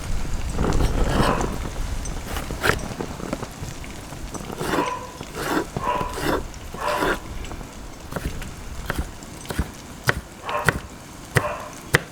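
A kitchen knife chops sweet chili peppers and other ingredients into dice for a seasoned tofu dish. The sharp taps on the cutting board come close up in quick, irregular bursts with short pauses between them.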